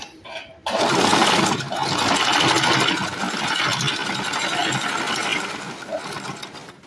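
A domestic sewing machine runs steadily while stitching fabric, a continuous whirring mechanical buzz that starts abruptly after a brief pause and holds near and fairly loud for several seconds before easing slightly.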